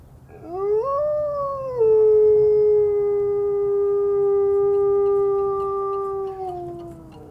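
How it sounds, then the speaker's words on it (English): Wolves at a desert wildlife park exhibit give a long, steady howl that rises at the start, holds level, then slides down at the end, carrying clearly over faint background noise. "The wolf pack will actually howl as a means of communication."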